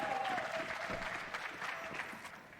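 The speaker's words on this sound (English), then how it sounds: "Big support for the home crowd here in Arlington." Home crowd cheering and applauding in the arena at an ECS Season 8 esports final in Arlington, Astralis versus Liquid, a dense, steady roar of clapping and cheers throughout.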